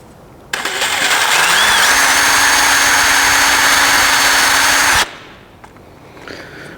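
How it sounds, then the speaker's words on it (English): A power drill bores pilot holes in a part clamped in a vise, a loud steady high whine that starts abruptly, holds for about four and a half seconds, then cuts off into quiet. "I'm just going to make some pilot holes."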